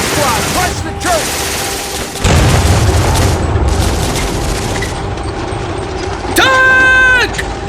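Heavy cannon blasts and bursts of gunfire boom through a combat scene as a tank fires on a church building, loud and close, with shouted voices and whistling tones between the impacts.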